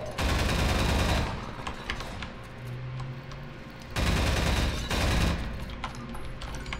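Automated turrets in Half-Life 2: Episode One fire two long, loud bursts of rapid gunfire separated by a short lull, with scattered game noise between the volleys.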